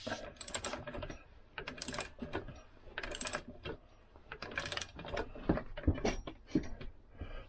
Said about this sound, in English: and just tighten this up. Don't need to torque it, just do it so it's tight.